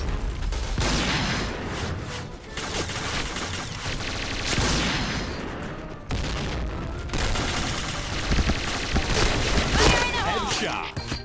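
Dense bursts of Kriss gunfire in the PUBG video game, with rapid shots and booms layered in a busy, loud game mix that runs steadily throughout.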